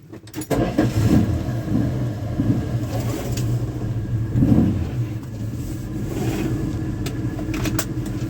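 A 1976 Dodge D100 pickup truck's engine catches and idles roughly, then pulls away with uneven revving and a low rumble, heard close with faint rattles and no speech.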